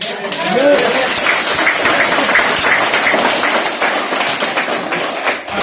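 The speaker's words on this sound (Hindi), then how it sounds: "ताली अपने लिए बजाना चाहिए" A crowd claps for themselves in a hall, dense, loud applause that runs unbroken for several seconds with a few voices mixed in.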